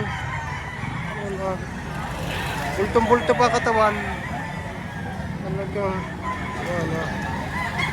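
Roosters and other fowl crow and cluck at a chicken market in Lipa, Batangas, with crowing calls rising now and then over a busy background while someone talks steadily throughout.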